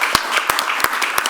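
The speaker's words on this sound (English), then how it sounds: "One big applause." Scattered clapping from a small audience at a panel on resilient real assets, a few distinct sharp claps spaced irregularly over a brief moment.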